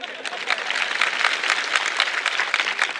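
Dense, steady applause from an audience at a Marathi motivational speech, with many hands clapping at once for about three seconds at a fairly loud level and no pauses.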